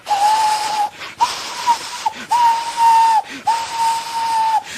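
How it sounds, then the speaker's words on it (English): A steam engine's whistle from a Thomas & Friends Railway Series story blows in four long, steady shrill blasts separated by short gaps, with breathy steam hiss around each blast. "rushing straight towards him was Gordon with the express"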